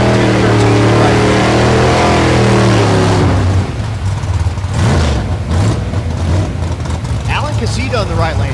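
Cars at a drag strip in Noble, Oklahoma, during Race Week roar as they accelerate. A loud rising engine howl comes first, then rumbles on more distantly while a commentator talks over it.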